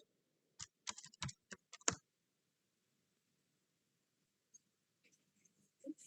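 Quick bursts of typing on a computer keyboard, a rapid cluster of close, crisp key clicks followed by a pause with a few isolated taps, and a brief murmur of speech at the end.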